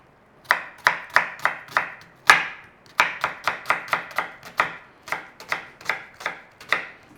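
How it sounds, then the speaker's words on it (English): Knife dicing onion and potato for a raw-filled pasty, sharp chopping strikes on a board in quick bursts of four or five, a brief pause between runs, close and clear with no talking. "We want some fairly small dice on the onion and the potato."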